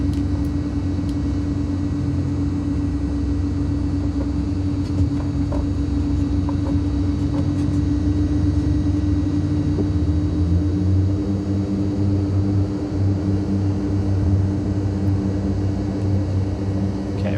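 Propeller aircraft at full throttle for takeoff on runway 27 in Microsoft Flight Simulator 2020, a loud, steady engine drone with a strong low hum and constant prop buzz throughout, no voices.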